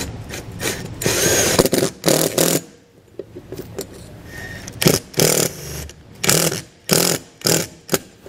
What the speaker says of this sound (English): now we're just gonna run the same screws we used at the back down through the roof here